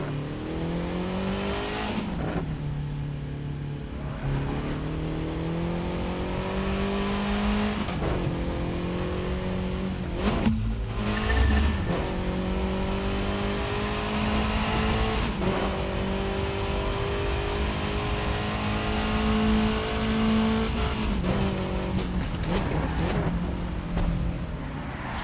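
A Volkswagen Golf GTI driving at high speed on a road in the USA, its engine droning loudly and steadily with repeated rises in pitch as it accelerates and shifts through the gears, heard from inside the car.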